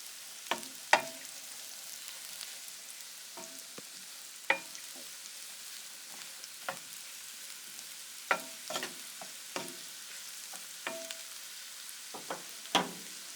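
Home-grown culinary mushrooms fry quietly in a pan under a soft, constant sizzle, punctuated by irregular scraping clicks of a utensil as they are stirred.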